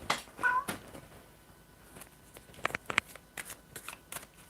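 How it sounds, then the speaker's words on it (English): A cat climbs indoor furniture, producing scattered scratchy clicks and scrabbling claw sounds, with a couple of short meow-like squeaks near the start, close and fairly quiet. "I'm fighting with my cat here because she's climbing the furniture that she knows she cannot do"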